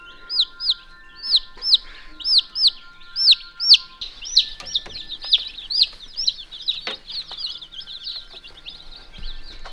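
Newly arrived baby meat chicks cheep loudly and close by in a rapid, rhythmic series of high peeps, with a few overlapping calls and faint handling noise.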